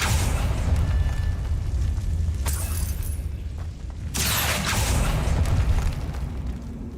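A Confringo blast curse explodes in Hogwarts Legacy combat, two loud booming bursts about two seconds apart, each with a crackling, shattering tail, over a steady rumbling game background.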